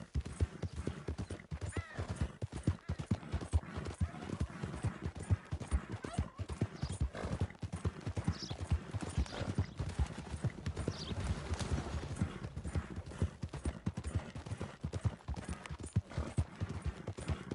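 Horse hooves in Red Dead Redemption 2 clip-clop in a steady, continuous rhythm at moderate volume for the whole stretch, with occasional snorts and a whinny over the gait.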